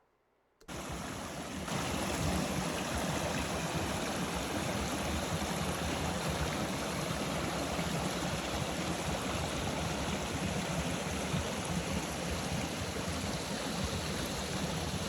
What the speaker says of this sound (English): eventually we made it to White Branch Creek where we stocked up on water.